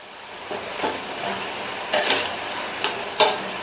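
Crispy homemade snacks fry in hot oil with a steady low sizzle, broken by a few sharp scraping clicks as a utensil turns them over in the pan, close by.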